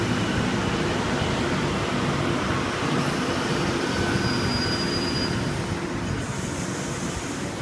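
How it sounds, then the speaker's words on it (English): A Sydney Trains Waratah A26 electric train leaves a station platform, producing a continuous loud rumble and broad rolling noise close by that holds steady throughout. "Waratah A26 is now departing platform 1 for a for a city service."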